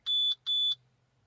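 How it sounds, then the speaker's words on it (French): A car diagnostic interface on a Citroën C4 Picasso 2.0 HDi with stored fault codes gives two short electronic beeps in quick succession, high-pitched and clean, each about a quarter second, over near silence with a faint low hum. "Je crois que le bip c'est qu'il y a des défauts."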